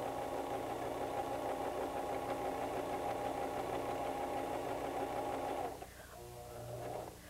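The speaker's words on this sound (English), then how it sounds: "We're going to sew." A White 1735 sewing machine runs basting stitches in one long, steady, close whir, then slows and stops, followed by a brief, quieter burst of stitching.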